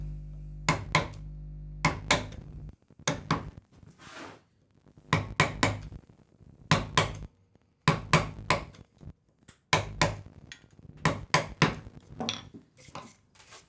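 A chisel cuts a housing dado joint in wood by hand, without a saw, making crisp, close knocking strikes in quick clusters separated by short pauses.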